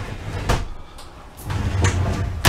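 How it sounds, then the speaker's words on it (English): RV bathroom drawers in a Vibe 250BHS travel trailer shut and meet in the middle, giving a few sharp, close knocks and thuds over low room hum. "the drawers shut, meet in the middle"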